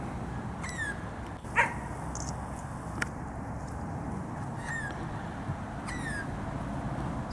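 A small dog gives a few sharp, faint yips and barks over steady outdoor background noise as a visiting dog arrives, with scattered bird chirps between.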